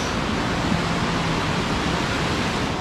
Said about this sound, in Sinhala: කොහොමද වැස්ස? වැස්ස නම් අම්මෝ.